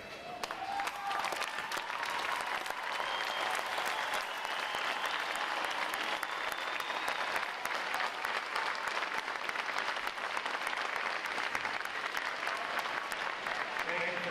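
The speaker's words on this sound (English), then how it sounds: "Will all our veterans please stand so we can give you a round of applause?" Dense, steady applause from a large crowd honoring veterans at a U.S. Navy boot camp graduation ceremony, continuous and even throughout, fairly distant and diffuse.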